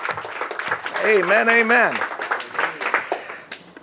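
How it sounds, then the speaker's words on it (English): Congregation clapping in a church service, a scattered patter of hands running steadily beneath a voice chanting and calling out in a worship setting. "Let's clap again."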